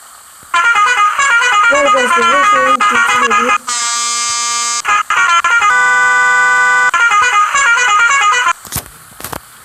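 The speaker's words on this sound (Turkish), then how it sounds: "Kornalar da duruyor" Loud electronic car horns blare from a driving video game, sounding a series of sustained tonal honks with brief pauses between them, followed by a few short bursts at the end; no talking over them.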